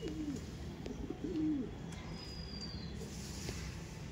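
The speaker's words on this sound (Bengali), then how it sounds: "এটা ছিল মাদি পায়রা।" A female Andhra pigeon gives two soft, low coos close by, one near the start and one a second later. A quiet background hush fills the rest.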